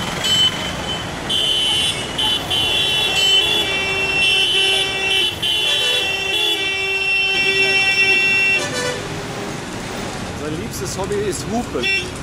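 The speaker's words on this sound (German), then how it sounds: "Er hupt, wenn er einen auf sie zukommen sieht." Bus horn honking repeatedly on a busy road in Kerala, India, heard from aboard the moving bus; long sustained blasts dominate over engine and traffic noise, with voices talking in the background.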